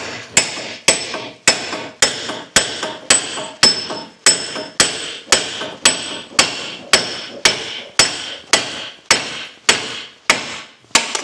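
Repeated heavy hammer blows strike a car wheel hub to drive out the bearing, about two ringing metallic hits per second, close and loud, each with a short ringing tail.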